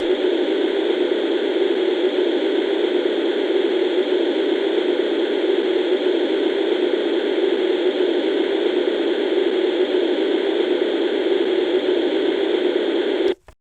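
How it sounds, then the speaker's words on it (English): Steady hiss of white noise from a Munchkin MK0038 soothing sound machine, loud and unchanging, then cut off abruptly at the very end. "the white noise is usually pretty terrible"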